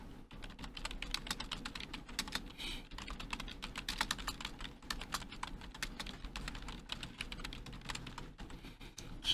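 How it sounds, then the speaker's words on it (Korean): Rapid, crisp keystrokes on a computer keyboard patter continuously at close range, with occasional heavier presses such as the Enter key, quiet and steady with no talk. "맨 끝에 우리가 이렇게 엔터키 치죠"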